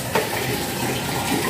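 Running water for a pet's bath poured into a basin, a steady splashing wash of water heard close and continuous throughout.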